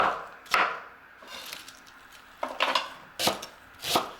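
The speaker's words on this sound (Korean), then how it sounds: "양배추도 먹기 좋은 크기로 썰어 놓습니다." Knife chopping cabbage on a board for sundae bokkeum, a handful of sharp close cuts landing at irregular intervals with brief pauses between, no voices.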